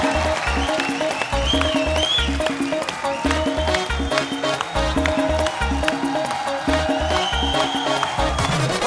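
A studio audience on The Kapil Sharma Show applauds a guest's entrance, sustained clapping over a thumping rhythmic music beat, moderately loud and continuous for about nine seconds.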